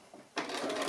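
A sewing machine fitted with a quarter-inch foot starts abruptly after a brief quiet moment and stitches fabric in a rapid, steady mechanical whir, close and alone.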